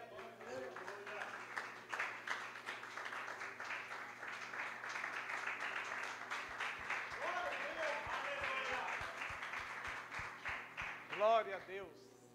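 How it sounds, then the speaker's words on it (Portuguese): A church congregation applauds the Lord while sitting down, scattered clapping running under a preacher's voice and organ-like tones, with the claps thinning out toward the end. "Vamos se assentar aplaudindo ao Senhor?"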